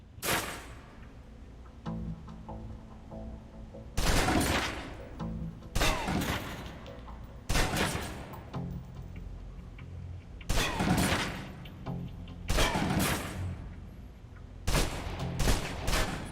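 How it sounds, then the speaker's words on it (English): Submachine gun fire in the video game Alpha Protocol, emptying a full magazine in six loud, sharp bursts spread evenly over the stretch, with quieter game ambience between them. "Now, let's move on to the submachine gun. Now let's empty the clip."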